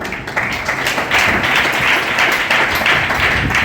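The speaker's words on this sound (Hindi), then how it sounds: "आत्मबल को बढ़ाने के लिए तालियां बजाएं।" Audience at a poetry recital in a yoga ashram in Bhiwani breaks into loud, sustained applause, a thick continuous roar of many hands clapping with no talk over it.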